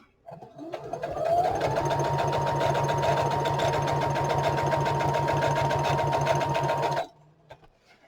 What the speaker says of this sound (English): I'm going to stitch it on to this page.